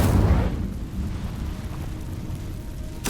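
The Incendio fire spell cast in Hogwarts Legacy: a brief burst of flame with a low rumbling whoosh at the start that fades into a quieter crackling tail, ending with a sharp click.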